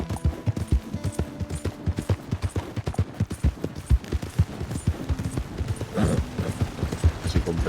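Horse hooves in Red Dead Redemption 2, a rapid rhythmic clip-clop of a ridden horse, close and prominent throughout, with faint mechanical game sounds layered underneath.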